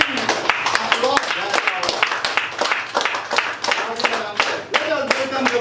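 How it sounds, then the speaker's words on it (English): Audience applause at a Toastmasters club meeting welcoming the first speaker: dense, steady clapping from a room of people, close and fairly loud, sustained throughout with crowd voices mixed in. "put your hands together. And with a rousing applause,"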